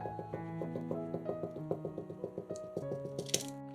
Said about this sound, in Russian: Накалываем тесто вилкой.